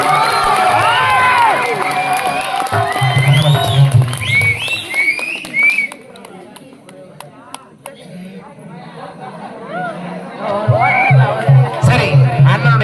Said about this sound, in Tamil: மீண்டும் இந்த குழந்தைக்கு ஒரு கைத்தட்டி கொடுத்தேன்